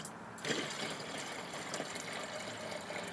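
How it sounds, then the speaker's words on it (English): Diluted nettle tea poured from a container into a garden watering pot, a steady close splashing and trickling of liquid that starts abruptly and continues evenly throughout. "a little to my watering pot"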